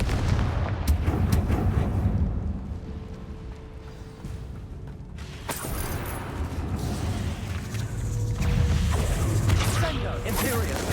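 In a Harry Potter video game, Confringo blasting spells go off as a series of heavy booming explosions with rumbling bursts over a dense noisy backdrop. A sharp crack lands midway, and voices come and go around the blasts.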